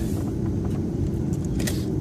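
A car pulls forward out of a school loading zone, a steady low engine rumble with road noise, fairly close and even, no voices.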